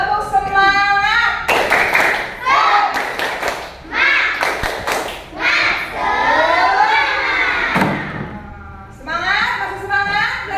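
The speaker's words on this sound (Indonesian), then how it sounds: "Oke, coba tepuk semangat." A classroom group performs a rhythmic 'tepuk semangat' clapping chant as an ice-breaker, sharp bursts of synchronized claps alternating with loud chanted voices in a repeating pattern, close and lively.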